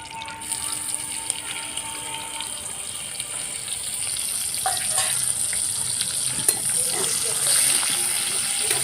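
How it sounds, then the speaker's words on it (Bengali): Chopped onion and a bay leaf fry in hot oil for a papaya, potato and chickpea curry, making a steady close sizzle that grows slightly louder, with occasional stirring clicks. "তেলের মধ্যেই একটা তেজপাতা ফোড়ন দিয়ে দিচ্ছি কুচনো পেঁয়াজটা দিয়ে দিচ্ছি"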